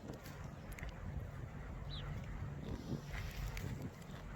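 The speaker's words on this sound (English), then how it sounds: "Whoa, it's windy." Wind gusting across a microphone at the beach while crabbing, a continuous low buffeting rumble, faint and unbroken for a few seconds.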